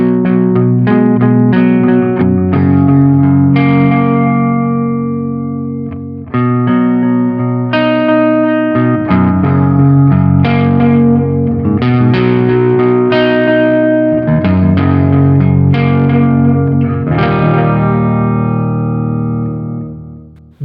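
Electric guitar through a Sonicake Sonic Ambience pedal in analog delay mode, a dark, voice-like echo trailing sustained chords and picked notes in a continuous loud passage.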